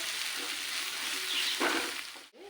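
Steady sizzle of oil frying in a pan for taro and egg tamarind curry, continuous and close, with a brief swell of stirring near the end before it cuts off.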